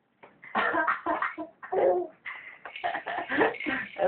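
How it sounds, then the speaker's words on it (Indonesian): A person fakes a string of short, forced coughs, several voiced bursts in close succession, loud and near. The coughs play for a baby. "Ayo pura-pura batuk lagi."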